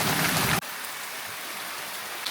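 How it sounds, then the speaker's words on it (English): Steady rain on a forest walking trail along the Kumano Kodo pilgrimage route in Japan, a dense hiss that cuts abruptly to a softer, continuous patter after about half a second, with no talking. "we'll just see how this rain goes"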